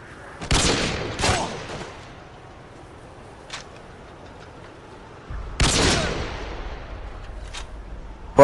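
Gunfire in the video game Rust: two quick bursts of sharp, loud shots early, a faint distant pop, then another heavy burst followed by a lingering low rumble.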